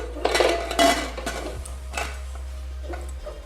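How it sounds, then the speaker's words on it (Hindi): Chicken pieces stirred into gravy inside a pressure cooker, a few distinct metallic clinks and scrapes of a spoon against the pot spaced across a quiet kitchen background with a steady low hum. "चिकन के पीसेस शामिल कर दिए हैं। इसको मिक्स करेंगे अच्छी तरह से।"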